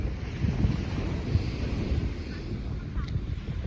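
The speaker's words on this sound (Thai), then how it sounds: "ลมแรงไม่ค่อยอยากแนะนำให้ลงทะเลนะคะเพราะว่ามันแบบคลื่นมันแรงมาก" Strong wind buffeting the microphone at a beach, with rough surf rolling underneath as a continuous loud rumble.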